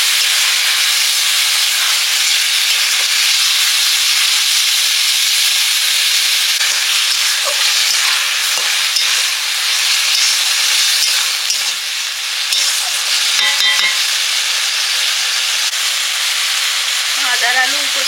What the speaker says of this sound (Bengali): মাছ আর আলু কষে কষে রান্না করে নিচ্ছি।